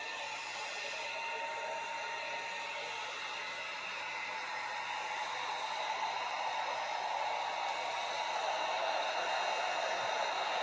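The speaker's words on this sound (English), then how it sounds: "start forming the binding to the guitar with the heat gun" Heat gun blowing steadily while brittle binding is heat-formed around a Telecaster guitar body; a continuous broadband hiss runs the whole time without breaks, fairly faint and even, with no talk.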